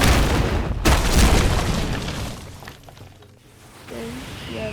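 A vanishing kick finisher from The Strongest Battlegrounds lands as a heavy boom with a sharp impact burst near the start, then fades into a rumbling tail before a few faint whooshy effects close it out.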